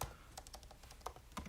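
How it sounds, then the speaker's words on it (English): Quick bursts of keystrokes on a computer keyboard, fairly faint and close, with uneven rhythm and brief pauses, and no voice over them. "if I type in now"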